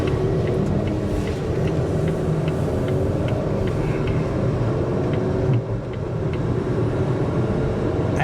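Cabin sound of a 2023 Volvo XC40 B4 FWD Plus compact SUV under acceleration on the road: a steady, even engine and road drone with no sharp changes, plus a faint, regular ticking throughout.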